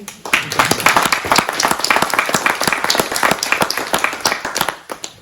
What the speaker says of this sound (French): Je crois que ça mérite d'être applaudi